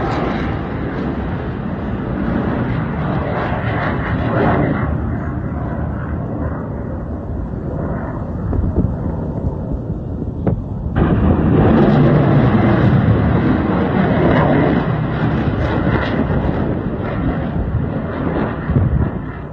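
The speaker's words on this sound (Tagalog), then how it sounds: "Tuloy-tuloy naman ang paglipad at paglunsad ng mga bomba ng US Air Force B-1B Lancer sa mga target nito sa Iran." US Air Force B-1B Lancer bombers fly over on a bombing mission, a loud continuous low roar of jet engines with broad rumble and wind buffeting that swells louder partway through.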